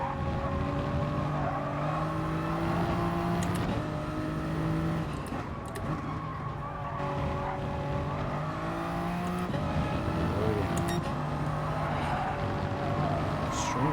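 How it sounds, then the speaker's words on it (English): A race car in the GT Sport video game drones along with a strange scraping noise. Its sustained engine tones shift in pitch, broken by brief harsh bursts, at a moderate level. "Strange noise, scraping noise it has."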